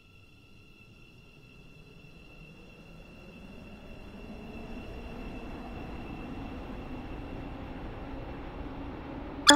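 A Class 717 train in a video game, bound for Stepford Airport Central, gives a steady rolling rumble that slowly builds in loudness, with a thin high whine above it and no talking.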